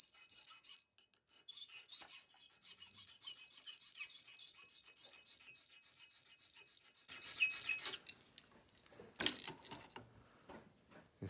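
Steady rasping strokes of a metal file smoothing coarse file marks on a swivel breech rifle kit part, repeated continuously at close range, with a few louder, harsher scrapes near the end.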